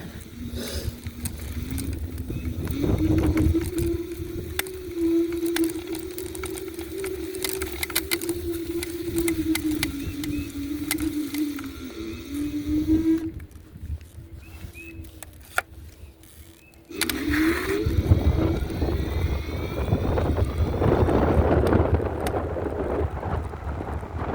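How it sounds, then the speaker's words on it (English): A small engine of a Bluetran Lightning hums steadily with a droning tone, dropping out briefly midway and then returning, with wind noise buffeting the microphone throughout in cold weather. "I love the sound of their engine."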